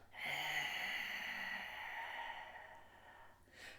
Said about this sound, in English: So this is the Darth Vader breath.